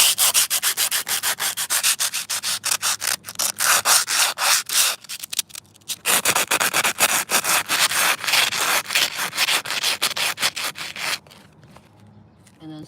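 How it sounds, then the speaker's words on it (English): Rapid back-and-forth scratching of sandpaper on wood, close and rhythmic, pausing briefly midway before resuming, then stopping near the end. "And then the sanding paper, it's super smooth. It really just grinds it down."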